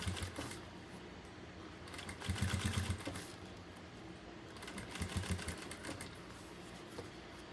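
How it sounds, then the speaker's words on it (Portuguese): A sewing machine stitches a seam on fabric while a document holder is made, running in a steady mechanical whir with bursts of faster stitching and short pauses, close and moderately loud. "Mantém sempre a margem de costura aqui do pé de máquina"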